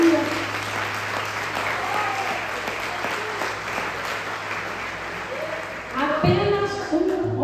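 A church congregation keeps up sustained, even applause for several seconds. Near the end a voice rises over the clapping as it continues.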